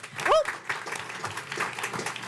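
An audience at a county school board meeting breaks into steady applause after an award for an elementary school student, following a brief whistle-like squeak at the start.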